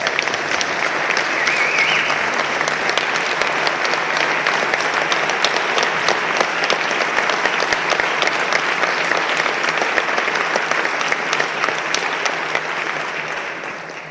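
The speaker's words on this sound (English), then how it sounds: "Can we give him a round of applause?" Minnesota legislators in the chamber applaud their sergeant at arms during the final hour of session, a loud sustained round of clapping that holds steady before tapering off at the end.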